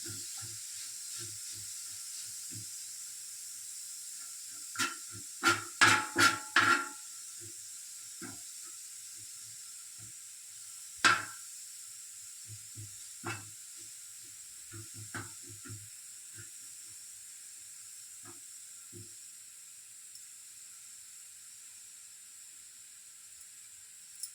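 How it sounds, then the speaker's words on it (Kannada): Bitter gourd chutney powder ingredients roasting in a pan on medium flame, a soft steady sizzle with scattered sharp scraping and clinking stirs, a quick cluster near the start, then sparser knocks. "ಮೀಡಿಯಮ್ ಫ್ಲೇಮಲ್ಲಿ ರೋಸ್ಟ್ ಮಾಡಬೇಕು."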